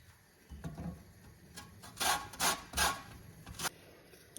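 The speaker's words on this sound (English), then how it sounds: "I'm just going to grate the zest of one orange" Zest of one orange being grated for a white chocolate mousse tart, with several short, close rasping strokes in quick bursts and no talking.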